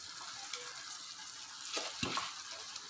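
Soaked, drained basmati rice goes into a hot pan for Karnataka-style spicy pulao, giving a soft steady sizzle with a few louder crackles and stirring scrapes near the end, quiet and close, without speech.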